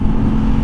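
A brief, loud, steady engine drone from an Aprilia RS 660 or Triumph Street Triple RS motorcycle held at a rev that seems to hit a limiter in first gear, close and alone.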